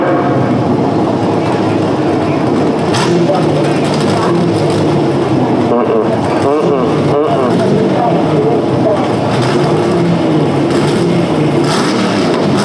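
A 477 cubic inch big block Chevy drag racing engine at Shadyside Dragway roars loudly and steadily throughout, with a continuous mechanical rumble, and a commentator talks over it.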